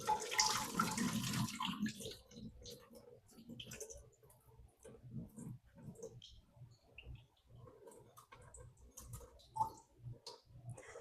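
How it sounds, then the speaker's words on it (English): Jasmine rice being rinsed under running water, splashing hard at first, then settling into softer trickles and small clicks and taps as the grains are swished around. "So I'm going to clean our rice"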